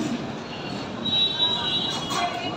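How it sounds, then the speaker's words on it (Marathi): A slow-moving morning commuter train in India rolls along with a steady rumble and a high, thin wheel squeal, heard from inside the carriage amid the crowd's background murmur. "अतिशय स्लो झालेली आहे ट्रेन"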